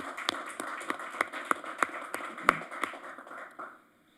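Sparse, rhythmic clapping at a city council meeting for the Civilian Employee of the Year, a handful of distinct claps at moderate distance that slow and fade out after about three and a half seconds, with no talking.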